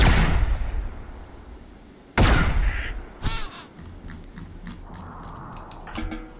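Crows caw in the Rimworld video game, harsh cries mixed with sharp bursts of combat impacts, starting loud and close, then dropping to scattered calls and thuds.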